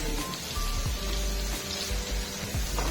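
Chopped onion sizzling in a pan for a masala dosa potato filling, a steady close hiss with light crackle and a few soft clinks, no voices.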